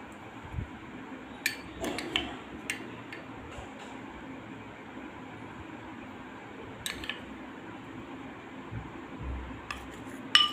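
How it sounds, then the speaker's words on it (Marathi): A spoon mixing salad dressed with soy sauce and oil: faint, sparse clinks and scrapes against a bowl, scattered irregularly over quiet background hiss. "आणि हे चांगले आता मी मिक्स करून घेते आहे"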